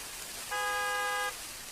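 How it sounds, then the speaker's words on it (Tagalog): A single short car horn honk, steady and clear, sounding for under a second against a quiet background. "kinsa may sigig busina sa sakyanan?"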